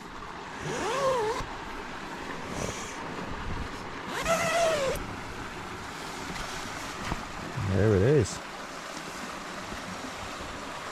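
Steady rushing water flowing over a small natural stone weir nearby, with a brief spoken remark and a few short squeaky calls over the continuous wash.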